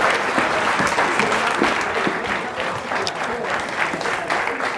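A dense, loud burst of audience applause at an annual general meeting of the Caisse Desjardins du Littoral gaspésien, many hands clapping steadily throughout.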